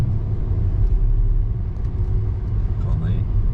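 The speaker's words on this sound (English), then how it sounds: "Just can't beat a bit of engine braking for me." A BMW 530d tuned to 365 bhp engine brakes while driving, a steady low rumble with no sharp revving, heard from inside the car with people talking.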